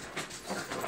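A dog whimpers and pants close by in short, breathy bursts, with no voices.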